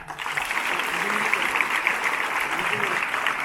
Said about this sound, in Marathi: पुन्हा एकदा टाळ्यांचा गजर करा